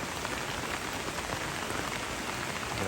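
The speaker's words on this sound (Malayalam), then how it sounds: "നല്ല മഴ പറഞ്ഞാൽ നല്ല മഴ" Heavy monsoon rain falls steadily on a farm where ducks are kept, a dense, even hiss of drops lasting the whole short stretch with no voices.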